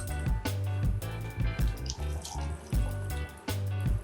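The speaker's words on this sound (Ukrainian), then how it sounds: "а у стакан для чаю, звичайно, вже додамо окріп" Boiling water poured into a tea glass, a steady close splashing pour with gurgling pulses under background music.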